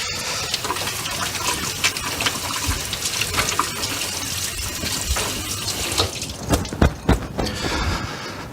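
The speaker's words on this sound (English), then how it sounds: "gotta wash my hands" Hands are washed under a running faucet at a sink during a sausage-making class, a steady close splash of water with brief louder gushes and drips, no talking.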